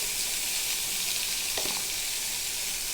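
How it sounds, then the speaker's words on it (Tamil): Ground pirandai chutney paste sizzles steadily in a hot pan as it is tempered, with a continuous bright frying hiss and a brief louder crackle partway through, close and without talk. "நம்ம அரைச்சி வச்சுருக்க எடுத்து தாளிச்சிக்கலாம்."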